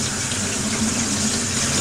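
Tap water running steadily into a bowl of sushi rice being rinsed, a continuous close hissing gush of even loudness.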